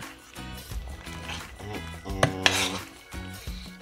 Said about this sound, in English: So now I'm gonna stir it up.